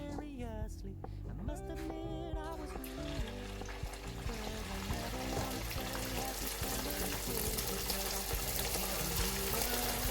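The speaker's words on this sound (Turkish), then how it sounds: "Şimdi bunları buradan teker teker alarak kızmış olan çiçek yağımın içinde kızartacağım." Small puff dough balls drop into hot sunflower oil and fry with a dense, bright, crackling sizzle that builds and holds steady; a voice is heard briefly at the start.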